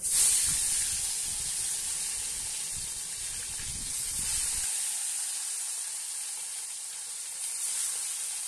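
Small charapona fish hit hot mustard oil, producing a loud, close, steady hissing sizzle that stays strong throughout and softens only slightly toward the end.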